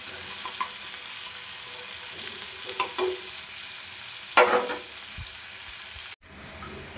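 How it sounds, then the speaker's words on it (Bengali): Chopped onion and capsicum frying with a little salt in a pan, a steady soft sizzle with a few scraping stirs of a spatula and one sharper clatter, close and fairly quiet. "পেঁয়াজ আর ক্যাপসিকামটা ভালো একটু ভেজে নেব।"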